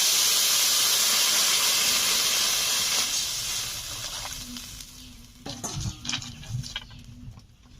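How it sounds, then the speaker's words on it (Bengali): Water hits a hot pan of katla fish curry with bottle gourd greens, bursting into a loud steamy hiss that fades over several seconds, followed by a few soft clinks and scrapes of stirring. "এখন জল দিয়ে দিচ্ছি"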